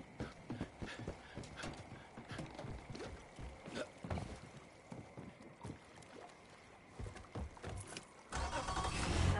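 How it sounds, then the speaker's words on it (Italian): A motorboat engine starting in the video game Far Cry 5, preceded by a jingle of keys: scattered clicks and rattles, then a rising engine rumble toward the end. "È bello che si sente il rumore delle chiavi, poi metti in moto."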